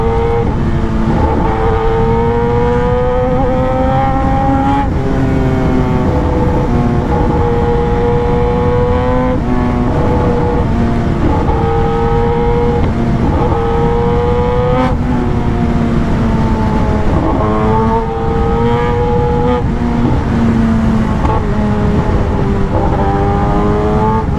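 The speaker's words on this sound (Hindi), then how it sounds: "बाइक बहुत ज़्यादा लाउड है, मतलब नेक्स्ट लेवल लाउड।" Kawasaki Ninja ZX10R engine revs loud and close, rising and falling repeatedly in steady surges with a strong roaring tone throughout.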